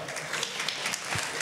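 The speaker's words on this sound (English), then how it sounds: "applause for the weather" Brief burst of audience applause at a tech conference closing, dense crowd clapping filling the moment.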